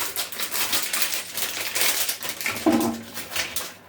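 A new bathroom sponge being unwrapped from its packaging at home gives steady close crinkling and crushing of plastic wrap, with a sharper tearing rustle near the end, no talk.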